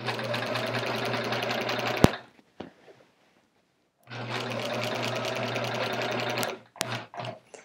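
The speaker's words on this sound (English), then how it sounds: "Stitching in the ditch this way now." Walking-foot sewing machine stitching in the ditch on a chevron quilt, a fast steady motorized hum that runs, stops with a few clicks and thumps, then runs again, close and alone.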